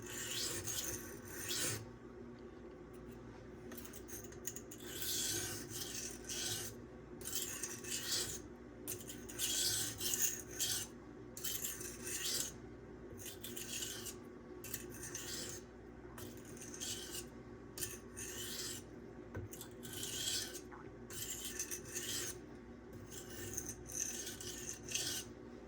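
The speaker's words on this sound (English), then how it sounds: "It's the 1000 grit." A thinly ground K390 steel knife blade is drawn over a 1000 grit sharpening stone in a quiet, near, rhythmic scraping, each stroke separated by a brief pause.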